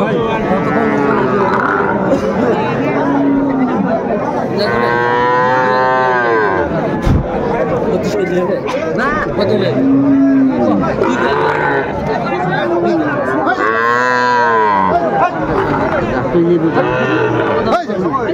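Sahiwal bull calves at a cattle market give several long, loud moos spread across the stretch, close and repeated, while people chatter and bargain throughout.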